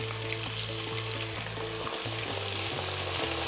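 Beef and mutton chunks fry in rendered fat inside a Redmond multicooker, a steady close sizzle with crackling pops and a constant low appliance hum, no voices.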